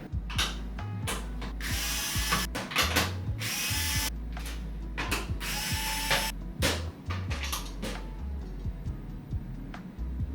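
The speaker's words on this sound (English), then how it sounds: "You unscrew 1, 2, 3 to get this whole thing off, and then I'm gonna do the same on this side." A screwdriver ratchets and clicks while removing screws from a custom PC case, with bursts of rapid ratcheting separated by short pauses, close and moderately loud.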